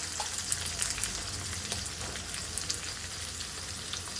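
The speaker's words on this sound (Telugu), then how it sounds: "తర్వాత ఒక పెద్ద ఉల్లిపాయ కోసి పెట్టుకున్న ఉల్లిపాయ వేస్తున్నాను" Chopped onion and curry leaves frying in hot oil for a potato capsicum curry: a continuous close hiss and crackle with small pops scattered throughout, steady and fairly quiet, with no talking.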